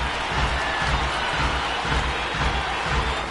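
Stadium crowd in a baseball video game, a dense continuous roar of cheering and clapping from many people, steady and loud throughout.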